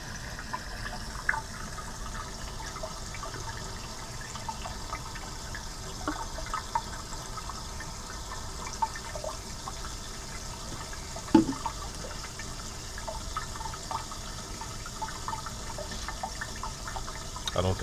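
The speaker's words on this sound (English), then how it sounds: "keep an eye on the water in the flask, and once it gets to that 500 mil mark," Water trickles steadily through filter paper into a flask while filtering out 500 millilitres, a soft continuous wash of running liquid with occasional faint clinks, fairly close and without talk.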